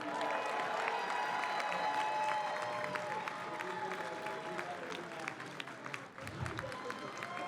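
A large audience at a Street Fighter 6 tournament final (CEOtaku 2023) applauds steadily, a dense wash of clapping that carries on throughout, with faint cheering mixed in.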